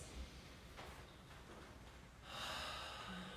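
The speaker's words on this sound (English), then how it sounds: "just settle in here into 10 slow, deep breaths" Slow, deep breathing during a yoga practice, a faint long inhale followed by a stronger, airy exhale, close and quiet with no talking.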